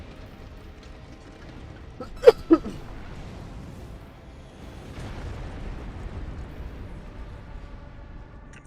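Explosions in the Armored Core VI mech combat game: two sharp, loud bursts in quick succession, followed by a lower rumbling blast and continuous muffled battle noise.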